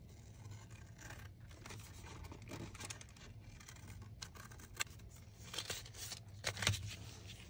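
Scissors trimming around a paper envelope made from junk mail, a series of quiet crisp snips and rasping cuts, close and without talk.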